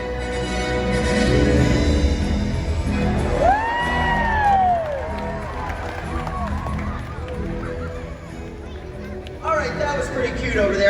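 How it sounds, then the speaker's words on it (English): Audience at SeaWorld Orlando's Orca Encounter killer whale show cheering for the orca Malia, a steady crowd roar with whoops and children's shouts layered over splashing water and background noise. "let's give her a great big cheer."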